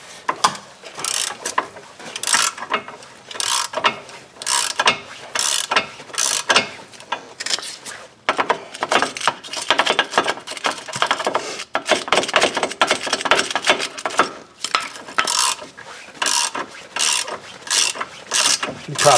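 A ratchet runs a bolt in to clean the threads during a sway bar end link replacement on a 2007 Ford Edge, producing bursts of rapid, close, metallic clicking in repeated strokes with short pauses between.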